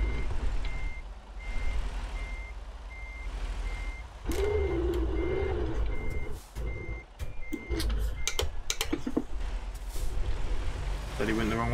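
Reversing beeps from a Freightliner Cascadia truck backing into a parking spot in American Truck Simulator, a steady evenly spaced series of beeps running through most of the clip over engine rumble, with air and mechanical noises and a voice speaking over it.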